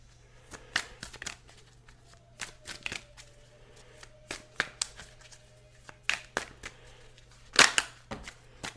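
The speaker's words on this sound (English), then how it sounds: "I'm going to lay the cards out" Tarot cards shuffled and laid out by hand, a run of sharp, close riffles and snaps with quiet pauses between them, one louder flurry near the end, and no talking.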